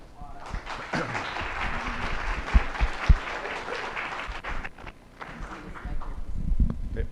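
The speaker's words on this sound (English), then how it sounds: "Let's give all of the panelists a round of applause." Audience applause for the panelists at a broadband and economic opportunity panel event, a steady spread of clapping through the whole stretch with a few sharper claps standing out.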